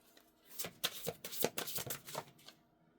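Deck of oracle cards being shuffled by hand, a quick run of soft riffling slaps and flutters, close and fairly quiet with no talking.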